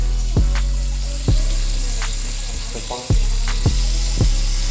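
A thick tomahawk steak sears in a hot pan with butter, giving a steady loud sizzle broken by several sharp clanks and knocks of the pan and utensils.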